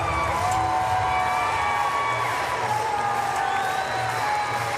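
A loud arena crowd at a Paris 2024 para powerlifting competition claps and cheers steadily for Hocine Bettir after his lift, a dense unbroken roar with whoops that carries from start to finish.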